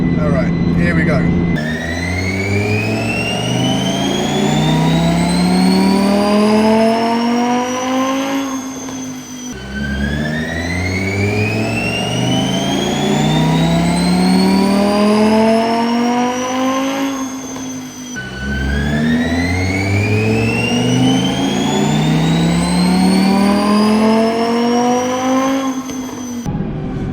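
A 2023 Audi R8 with its OPF deleted runs three dyno pulls in 4th gear. Each pull is a loud, close engine wail that sweeps steadily upward in pitch, then cuts off sharply before the next run begins.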